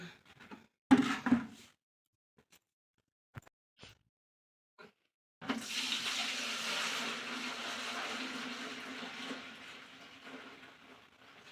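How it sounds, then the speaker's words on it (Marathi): Soaking water drained from a container of wheat that was ground and left to stand for making kurdai: after a few scattered knocks, a steady rushing pour starts and runs on for several seconds, slowly fading. "हे बघा किती काळ पाणी चाललंय"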